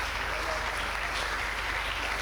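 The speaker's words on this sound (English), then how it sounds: "Ladies and gentlemen, a round of applause for Mr." A conference audience applauds as a city mayor arrives on stage for a fireside chat, a steady, dense roar of many hands heard from a distance, with a low hum underneath.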